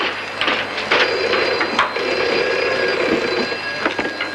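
A telephone rings in an indoor scene from a French-dubbed crime series, several repeated bright rings mixed with wooden rubbing and clatter, fairly loud and close, with no talk.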